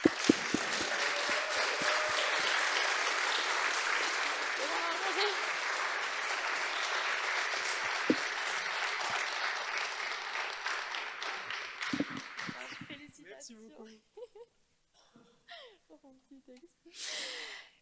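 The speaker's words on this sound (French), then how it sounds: "on peut venir applaudir Amir Terak." Audience at a literary prize ceremony applauding a laureate, sustained clapping for about twelve seconds that then fades into quiet, with brief sounds afterwards.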